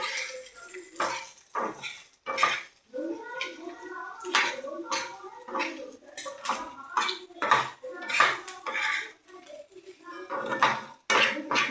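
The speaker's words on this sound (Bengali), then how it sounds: "এবার আমি সব কটাকে একসাথে ভালো করে আলুর মধ্যে মাখিয়ে নেবো মশলাগুলো" Spices are mixed into potatoes in a bowl with a spoon for a fish roe fritter curry, producing repeated clinks and scraping against the bowl in an irregular rhythm, close and fairly loud, with a voice talking throughout.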